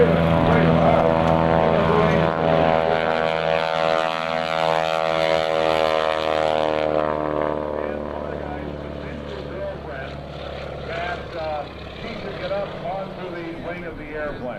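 A propeller airplane roars loudly close by at an airshow at NAES Lakehurst, its droning engine pitch falling and fading as it passes, with people talking over it.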